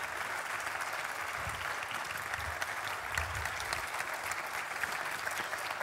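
Audience at a tech summit applauds an award, a steady wash of clapping from many hands held at an even, moderate level throughout, with no speech over it.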